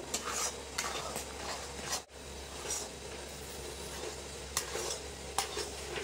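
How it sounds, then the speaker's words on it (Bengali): Thickening semolina dough for golapjam sweets is stirred continuously in a pan, a steady scraping swish with soft sizzling and occasional clinks of the spoon against the metal, close and fairly quiet. "অনর্গল এইভাবে নাড়তে থাকতে হবে, নাহলে কিন্তু নিচে থেকে লেগে যেতে পারে।"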